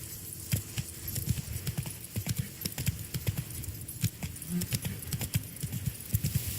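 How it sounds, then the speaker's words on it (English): Horse hooves clip-clop in a steady trotting rhythm in The Witcher 3: Blood and Wine, with light jingling tack under a soft game ambience. "Whoa there, Roach"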